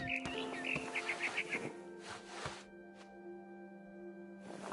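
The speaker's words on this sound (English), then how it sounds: "Then I heard chirping outside my window. It was a barn swallow going back to her nest." A barn swallow chirps in What Remains of Edith Finch, giving a quick run of bright, faint twittering notes near the start, with soft rustling and ambient hum after it.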